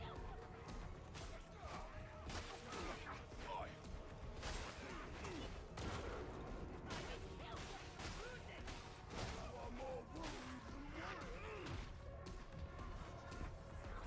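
Sniper gunfire rings out amid a chaotic Warhammer 40K Darktide firefight, sharp shots and crashes repeating over a dense, continuous background of combat noise.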